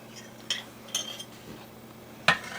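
Spoon clinking against a non-stick pan while pulling garlic out for a vegetarian steak-strip stir fry, a few soft, separate metallic taps and scrapes at close range.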